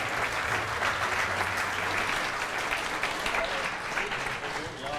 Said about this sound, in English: applause for the new Sauber C32.